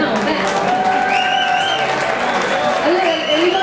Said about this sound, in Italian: Facciamo un applauso a Luciano, no?